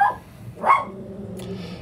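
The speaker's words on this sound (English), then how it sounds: "Don't mind my dogs, they're annoying sometimes." Dogs barking nearby in a home, two or three sharp yelping barks spaced across a couple of seconds, fairly loud, with a faint higher yip near the end.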